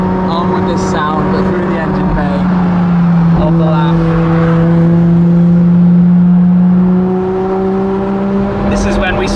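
A Ferrari LaFerrari fitted with a straight-pipe exhaust drives close by with a loud, raw engine note. Its tone climbs and holds through several rising revs, then eases slightly near the end.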